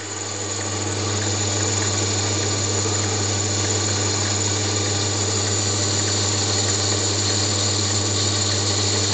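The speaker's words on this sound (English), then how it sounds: "showing how Darren's lathe now cuts" A mini lathe running steadily while cutting with tungsten tooling, giving a constant loud motor whine and cutting hum that holds for the whole stretch without voices.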